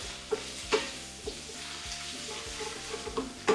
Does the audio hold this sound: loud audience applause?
no